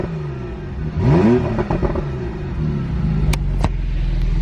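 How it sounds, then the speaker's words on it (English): A Ferrari California T pulls away hard from a standstill, its exhaust rising in a loud, close rev before settling into a steady, strong drone. "Let's listen to the way the exhaust sounds"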